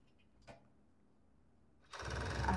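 A sewing machine starts up and stitches a seam on a long-sleeved robe with lace trim, running steadily and fairly close after a short quiet pause with a single soft knock.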